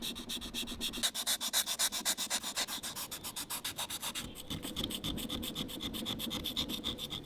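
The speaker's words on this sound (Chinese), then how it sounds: "然后就是打磨，先用粗的油石砂纸" A carved Chinese inkstone is rubbed with coarse oilstone sandpaper in steady back-and-forth strokes, a close, rhythmic scraping that keeps a regular pace throughout with no talk.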